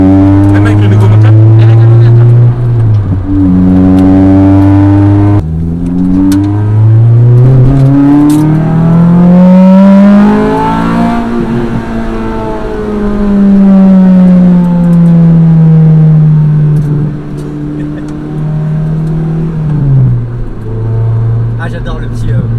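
A Honda Civic EK9 and Integra DC2 engine revs hard through the gears, pitch climbing steeply as VTEC engages, dropping on each shift and rising again; loud in-cabin drone with people talking over it.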